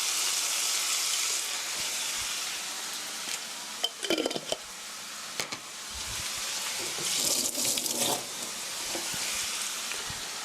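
Water poured into tomato sauce in a hot pan for eggs in hell gives a steady sizzle and bubbling, with a few clattering utensil knocks in the middle.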